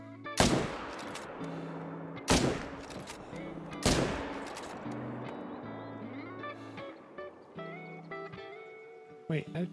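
Rifle shots ring out at red deer in a hunting video game set at Te Awaroa, three loud sharp cracks with ringing tails spaced a second or two apart over soft ambient music, then a faint click near the end.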